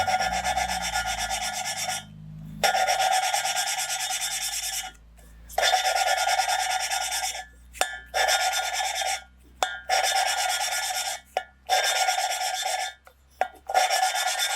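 Valves on a Volvo B230 cylinder head are lapped into their seats, a gritty rasping scrape repeated in short bursts with brief pauses between strokes, close and fairly quiet.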